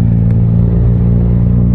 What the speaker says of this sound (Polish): jest zimny silnik i między tymi ścianami to napierdziela jak zły